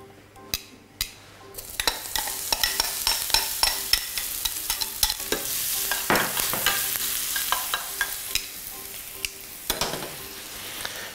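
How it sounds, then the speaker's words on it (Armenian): Eggplant pulp fries in hot oil with a steady sizzle, broken by frequent sharp clinks and scrapes of a utensil stirring in the pan, with no voices. "Եվ նույն յուղով տապակում ենք պտղամիսը սմբուկին։"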